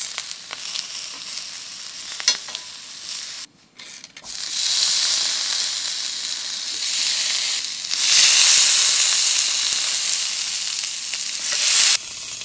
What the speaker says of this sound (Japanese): じゃあ、付け合わせのパプリカ焼いていきます。